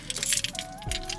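Keys jangle and clink in short bursts inside a car, close and fairly loud over a faint low hum.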